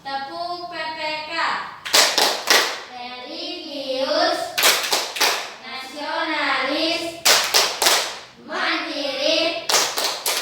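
Children chant a rhythmic clapping cheer in a classroom lesson, their sung voices broken by sharp bursts of clustered hand claps at roughly two-second intervals.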